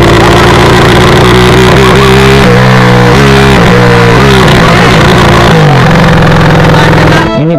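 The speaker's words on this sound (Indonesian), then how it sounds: "pokoknya nama Jack 250 cc lahir kan guys, dengerin suara ini motor anjay." A 250 cc motorcycle engine revs hard at close range on a Sunday morning group ride, a loud, buzzing tone that rises and falls through several throttle blips before dropping sharply at the end.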